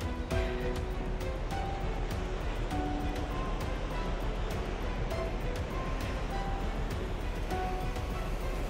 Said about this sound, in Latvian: Okeāns mutuļo.